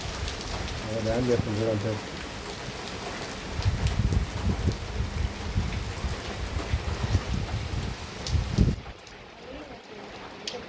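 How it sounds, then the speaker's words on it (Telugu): Heavy rain pours down in a village setting, a dense steady hiss that continues under people talking nearby, then cuts off abruptly near the end. "వర్షం బాగానే కొట్టే కదా"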